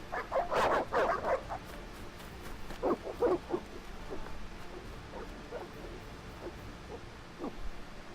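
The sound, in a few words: dogs barking in The Witcher video game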